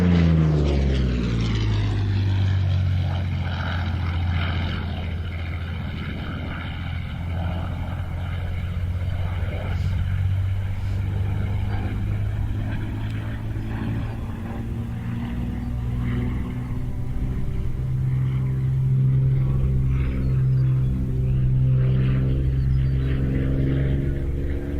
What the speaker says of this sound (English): Let's watch for just a few moments to the grace and to the sound of the P-40.